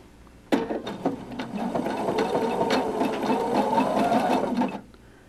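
A sewing machine stitches over embellishment with its thread tension lowered, starting abruptly and running in a fast, steady mechanical whir of rapid needle clatter for about four seconds before stopping, close and alone.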